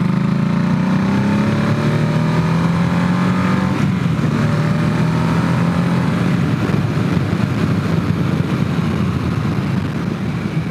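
A Harley-Davidson Nightster motorcycle exhaust drones while riding, with a low engine tone rising as it accelerates through gears, loud and continuous under heavy wind rush, with no talk.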